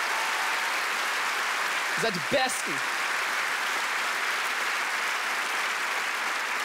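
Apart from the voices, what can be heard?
audience applause for mothers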